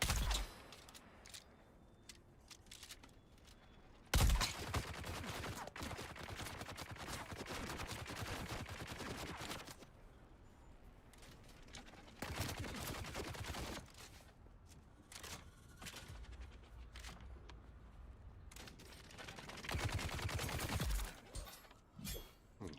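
Gunfire in the video game Dune Awakening, several bursts of rapid shots separated by quieter stretches, moderately loud against a faint background.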